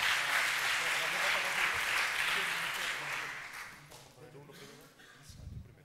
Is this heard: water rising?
no